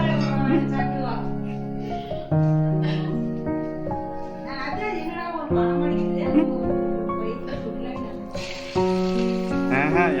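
Oil sizzles and crackles in a pan as chillies fry, beneath a loud voice talking almost continuously over it.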